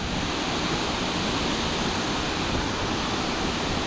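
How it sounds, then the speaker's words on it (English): At Gayle waterfall, the main fall and the streams running down the rocks beside it make a constant, full roar of rushing water, even and unbroken, with no talking. "So you've got the main waterfall, then you've got all those streams coming down the rocks"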